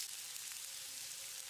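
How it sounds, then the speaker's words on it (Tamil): Chopped onion sautés in about one and a half tablespoons of oil in a pan, giving a steady, soft, even sizzle that fills the short stretch without voices. "வெங்காயம் லேசாக செவக்கிற அளவுக்கு வதக்கிடலாம்."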